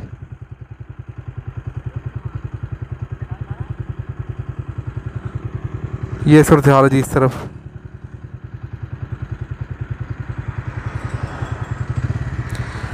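A tractor pulling a concrete dumper trolley chugs steadily nearby with a fast, regular diesel putter, a loud clattering rattle bursting out midway; someone talks over the engine.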